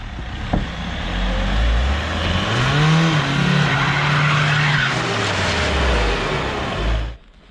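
An Audi and a BMW race with a loud, continuous engine roar and tires skidding. The engine pitch rises and falls through the run before the sound cuts off near the end.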